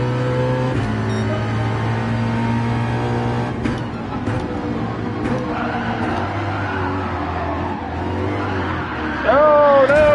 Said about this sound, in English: when the Mustang loses control, it really loses control